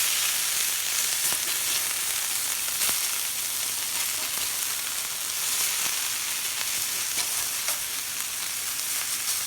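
Hash browns sizzle steadily on a Blackstone flat-top griddle, a continuous bright frying hiss with small crackles, close and fairly loud, with no talking.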